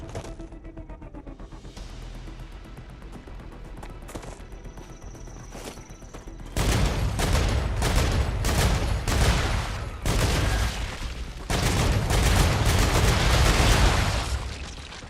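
Rapid automatic gunfire in the sci-fi factory game Star Rupture erupts after a quieter stretch of ambient hum, loud, close bursts repeating in quick clusters with short gaps between volleys.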